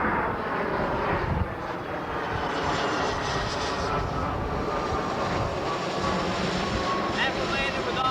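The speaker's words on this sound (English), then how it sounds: "show you what it sounds like for an F-16 taking off. It's extremely loud," An F-16 fighter jet takes off at a military airfield during the 1991 Desert Storm operation, heard from the tents some distance back as a continuous, loud, broad roar.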